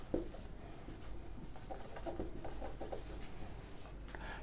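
Pen writing on paper while a math problem is worked out, a quiet, continuous scratching with short strokes and pauses, close by and faint.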